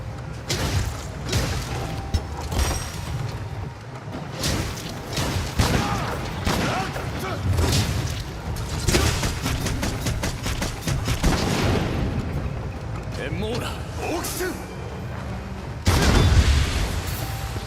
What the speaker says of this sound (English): Wyvern's fire, that is a very strong attack